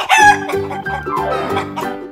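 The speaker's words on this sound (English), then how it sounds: "Chicken." A rooster crows a full cock-a-doodle-doo, loud and near, its rising and falling call over a steady backing of low tones.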